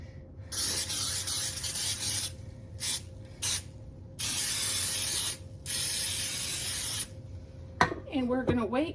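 Cooking spray hisses onto a waffle iron in several bursts of varying length, loud and close, with short pauses between them, followed by a brief clunk and a voice at the end.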